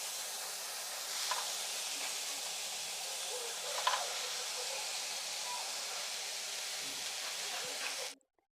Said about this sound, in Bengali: আগে ডাঁটাগুলো দিয়ে দিলাম, হালকা নাড়াচাড়া করে দিচ্ছি, তারপর শাকগুলো দিয়ে দেব।